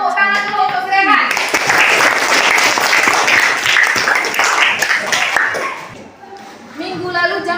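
A classroom of pupils applauds a classmate with loud, dense clapping lasting several seconds, then it tapers off as a teacher's voice speaks before and after.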